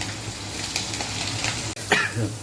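Green chilies fry in hot oil for lemon pulihora, a continuous crackling sizzle with a brief louder splutter near the end and no talking.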